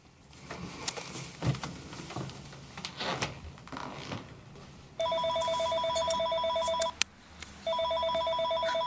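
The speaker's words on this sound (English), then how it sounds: "Now he's calling the home phone." A home telephone rings with a steady electronic trill, close and clear, repeating in long bursts with a short break between rings, following a stretch of quiet rustling and movement.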